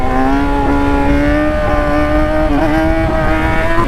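A 2018 Yamaha R6 engine drones loud and close at steady high revs, its pitch holding nearly level with a brief dip and recovery partway through, with wind rush underneath.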